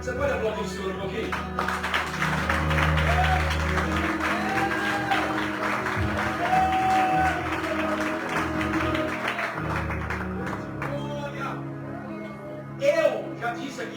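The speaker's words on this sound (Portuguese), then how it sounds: "Você pode aplaudir o Senhor um pouquinho?" A church congregation applauds the Lord at a worship service, sustained clapping mixed with crowd voices and background music, loud and continuous.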